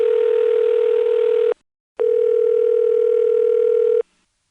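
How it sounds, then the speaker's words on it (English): Two long steady telephone ring bursts, each about one and a half seconds with a short gap between, carried over a T-carrier trunk line from an XY step switching office in Lexington, South Carolina; loud, clean and electronic in tone. "That's the same ringtone over 2 different generations of T-carrier."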